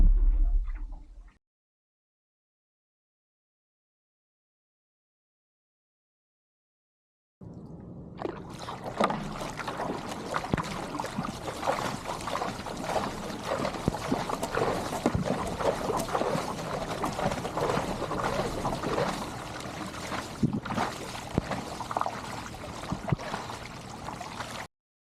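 A kayak is paddled at sprint pace with a Black Project Hydro Sprint-X extra-large paddle blade, giving steady splashing strokes and water rush close to the microphone, starting after a short silent gap.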